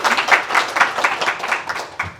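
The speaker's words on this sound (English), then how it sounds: "Round of applause," Short burst of audience applause at an expo content session as a panelist takes a seat, close, uneven clapping that thins out after a couple of seconds.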